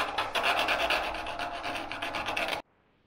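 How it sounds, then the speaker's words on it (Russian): Needle file rasping over a plaster mould backing, close and steady back-and-forth scraping strokes in a quick rhythm that stop abruptly into silence. "Теперь надфилем чуть-чуть подработаю и наждачкой потом, чтобы не было таких каких-то жестких зацепов на самой подложечке."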